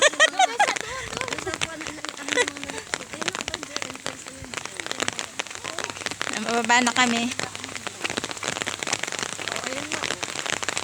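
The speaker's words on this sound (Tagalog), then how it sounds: "Nalakas na yung ulan. Nabot na kami ng ulan." Heavy rain pours in Tagaytay City as a steady, dense hiss beneath several people talking near the recorder throughout, with rustling and movement mixed in.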